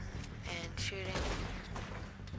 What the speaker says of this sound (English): So I start shooting